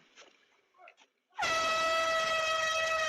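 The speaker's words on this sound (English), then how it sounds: "She grabbed a secret weapon, this air horn, and gave it a blast." After a few quiet household sounds, a handheld air horn blasts, a very loud, steady, piercing tone that holds unbroken to the end.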